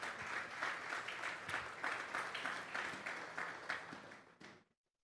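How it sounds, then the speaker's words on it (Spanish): Church congregation clapping in applause during a Sunday afternoon service, a dense, steady wash of many hands lasting several seconds before stopping abruptly. "Vamos a darle un fuerte aplauso pues al Señor esta tarde."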